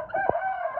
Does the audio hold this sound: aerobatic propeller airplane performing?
no